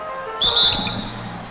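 A referee's whistle at an NBA basketball game between the Warriors and Suns gives one sharp, loud blast that fades out over the crowd's murmur.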